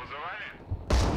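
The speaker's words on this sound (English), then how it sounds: "I'm gonna hit the top left of the point, or the cap point, with artillery." Artillery fire in the video game Broken Arrow, a sudden heavy boom near the end of a short stretch that opens with a voice and a faint thump.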